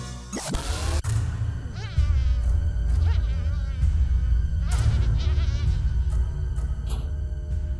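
A housefly buzzes close by, a loud, steady drone with wavering pitch that runs throughout and grows fuller about two seconds in.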